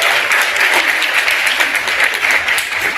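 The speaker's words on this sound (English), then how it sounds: "how about one more round of applause for Katrina Roberts?" A conference audience gives a steady, full round of applause, with dense, close clapping sustained throughout and no talking over it.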